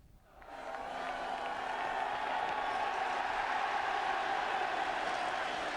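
A football crowd at Dean Court in Bournemouth, a capacity all-ticket FA Cup fifth-round crowd of 12,750, swells quickly into a steady, broad, distant roar of buzzing voices that holds evenly throughout.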